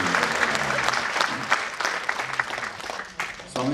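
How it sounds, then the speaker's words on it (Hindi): A crowd at a summit claps loudly and continuously, a thick wash of applause with a few sharper individual claps standing out, dipping briefly near the end. "तालियां धीरे नहीं, ऐसी ज़ोर से बजाओ"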